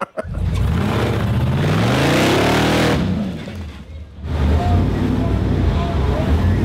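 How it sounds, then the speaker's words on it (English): A Chevrolet LT4 V8 revs hard toward redline during off-road wheeling in Alabama, a loud close roar rising in pitch, then dropping away to a lull before the engine surges again. "His LT4 was redlining."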